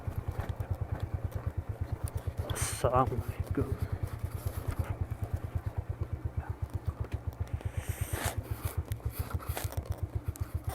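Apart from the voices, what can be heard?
motorcycle being parked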